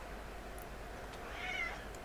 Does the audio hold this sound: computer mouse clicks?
no